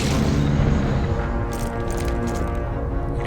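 A tank gun fires in the tank video game Tank Operations: European Campaign, a loud deep boom with a rumbling tail and faint crackling debris afterward.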